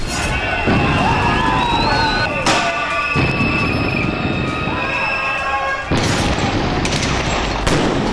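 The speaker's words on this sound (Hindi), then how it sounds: "पुलिस न सिर्फ आंसू गैस के गोले छोड़ रही है, बल्कि डरा देने वाली फायरिंग कर रही है।" Police open fire and launch tear gas shells during a riot, a dense barrage of cracking shots and heavy booms rolling continuously over a roaring crowd.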